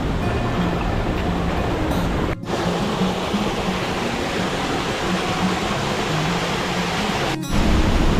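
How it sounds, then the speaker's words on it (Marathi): A waterfall cascading down a cliff at Mini Devkund in the Sahyadri hills roars steadily and loudly, a dense continuous rush of crashing water that fills everything, with two brief breaks in the sound. "कड्यावरून प्रचंड वेगाने कोसळणाऱ्या पाण्याचा आवाज आपल्याला याची जाणीव करून देतो"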